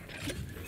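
A brief mechanical reload clicks and ratchets from a weapon in the horror game Dead Space Remake, a short metallic gear-like sequence set against a busy game soundscape, fairly quiet and close.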